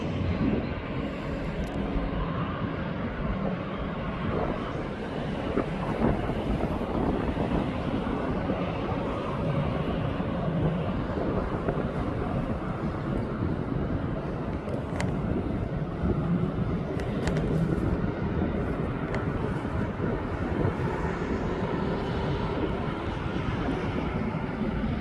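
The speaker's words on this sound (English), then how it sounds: "That AO6 has now just started his engines up over by DHL." Aircraft engines turn over before departure at East Midlands Airport, a continuous broad rumble heard from a distance with wind buffeting the microphone.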